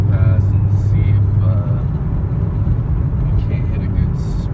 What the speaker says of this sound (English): I'm gonna wait for a few of these cars to pass